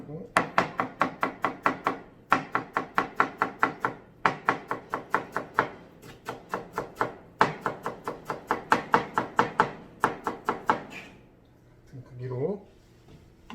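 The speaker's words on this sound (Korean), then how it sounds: "재료를 아까랑 똑같은 재료를 썰어주도록 하겠습니다" A knife chops chestnuts and other kimchi ingredients on a cutting board for perilla-leaf and pepper kimchi, in fast rhythmic bursts of sharp knocks separated by brief pauses, close and crisp.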